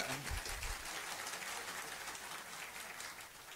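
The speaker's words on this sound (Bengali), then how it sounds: "একটু জোরে হাততালি দিতে পারেন" Sustained applause from an audience at an award ceremony: dense, even clapping that holds steady for several seconds without a break.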